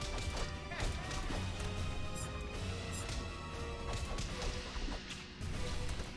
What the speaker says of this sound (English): Smashing the hands.